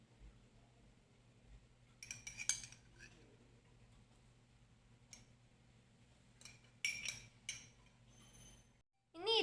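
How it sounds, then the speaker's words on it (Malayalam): A knife slices a banana for an ice cream parfait, making short, crisp tapping clicks against a board in two brief clusters over a steady low background hum. "ഇനി കട്ട് ചെയ്ത് ബനാന ഇടണം."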